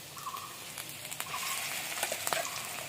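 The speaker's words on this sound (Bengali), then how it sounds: "কাঁচা লঙ্কাটা একটু ভেজে নিয়ে এর মধ্যে দিয়েছি পেস্টটা।" Chopped green chilli and spice paste sizzle and crackle in hot oil in a wok while a spoon stirs, with quiet scraping taps and a steady bubbling hiss, fairly soft and with no voices.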